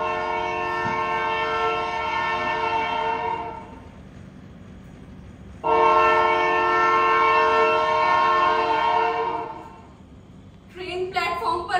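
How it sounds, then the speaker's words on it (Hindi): A train horn sounds on a theatre stage as a train arrives at a platform, two long, loud blasts with a pause between them, followed by a voice speaking. "ट्रेन प्लेटफॉर्म पर लग चुकी है"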